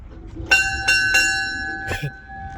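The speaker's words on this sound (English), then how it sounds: "Nice, the bell still works." An old locomotive bell at a railroad museum rings out in four close, loud strikes, each leaving a bright metallic tone hanging over low background noise.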